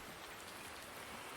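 Steady rain falls in the Farming Simulator 19 video game, a dense even hiss with no talk over it.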